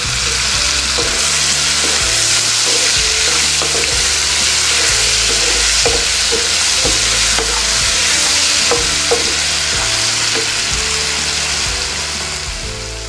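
Tomato gets stirred into onions fried until reddish in a pan for a chickpea-leaf gargatti bhaji, with a loud, steady frying hiss and a regular rhythm of scraping strokes from the stirring spoon.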